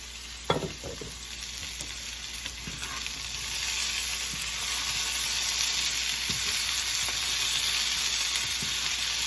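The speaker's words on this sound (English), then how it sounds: "We're going to cook this for 2 to 3 minutes to soften the tomatoes" Tomato slices fry steadily in a pan during a hot honey salmon meal-kit recipe, a continuous close sizzle with a few faint utensil taps near the start, no voices.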